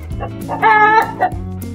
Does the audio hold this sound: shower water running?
no